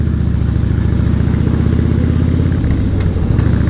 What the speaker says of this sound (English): what I have to say is the sound of the exhaust. It's also got baffles on it, so it's got this nice throaty sound to it.